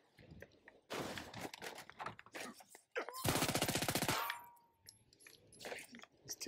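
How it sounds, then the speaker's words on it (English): Machine gun fire in the Crackdown 3 video game comes in several sharp bursts, one long rapid rattling volley in the middle and shorter bursts around it, with metallic clangs and clicks between them. "It's always good to have a machine gun, isn't it?"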